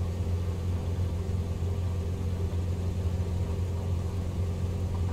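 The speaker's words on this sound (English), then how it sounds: "Going full throttle." An aircraft engine at full throttle in Microsoft Flight Simulator gives a constant low droning rumble with a steady harmonic hum, unbroken and even in level, with no voices.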